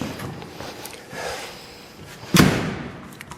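A remote-operated door popper on a 1928 Dodge rat rod springs a door open with one sharp, loud thud and rattle near the end, after quiet shop background.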